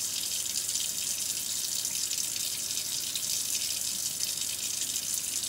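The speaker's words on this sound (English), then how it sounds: "first I'm going to lather my hands first with just a little bit of water" Tap water runs steadily into a sink while hands are washed with a little soap, a continuous close hiss of flowing water with no talking.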